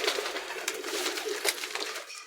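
A released pigeon flutters and flaps its wings in short rustling bursts as it takes off, close by, with faint cooing.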